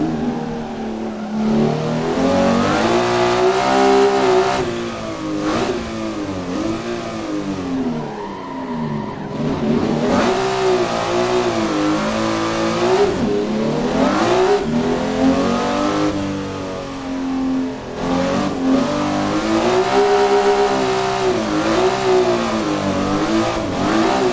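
Nissan S15 drifting at Bikernieki track, engine revving hard and repeatedly rising and falling in pitch with brief throttle lifts, loud and close for the whole stretch.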